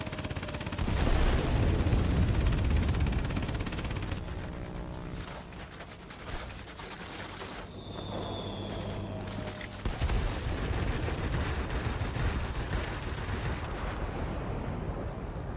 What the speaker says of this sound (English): And we'll take this one out with the bomb.